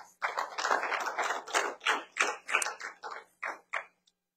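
A church congregation at a Sunday worship service claps loudly and steadily, a dense run of handclaps in uneven bursts that fade out after about four seconds, with no voices over them.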